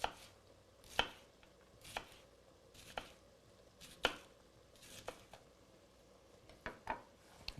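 A knife julienning fennel bulb on a cutting board: a slow series of sharp, close chops about once a second, spaced unevenly, with faint kitchen clatter between strokes.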